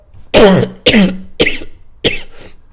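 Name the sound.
cough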